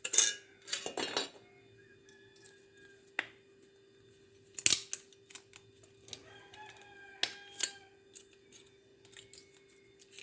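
Aluminium from a microwave magnetron being cut by hand: sparse sharp metallic snips and clinks, close and fairly quiet, scattered irregularly over a faint steady hum.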